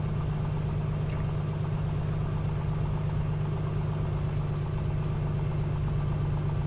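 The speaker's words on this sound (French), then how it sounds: "Et on entend le régime moteur changer également." A steady, droning piston engine of a Comanche 250 aircraft in Microsoft Flight Simulator hums continuously with a strong low tone, its pitch holding fairly even with slight shifts in speed, no voices.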